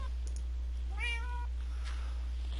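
A cat in the video game Minecraft gives a single short, clear meow over a steady low hum and faint background noise.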